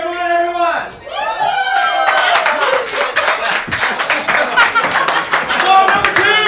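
Audience at a live-streamed game show clapping and cheering for dancers, dense rapid applause swelling after a brief opening of voices and lasting throughout, loud and close.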